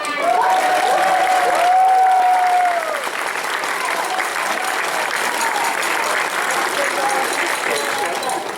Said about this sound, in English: clap if you're happy.